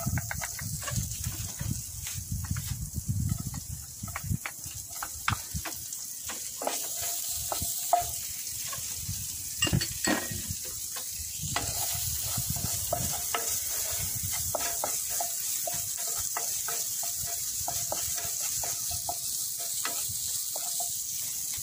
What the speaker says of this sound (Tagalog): Unahin natin gisahin itong ating luya.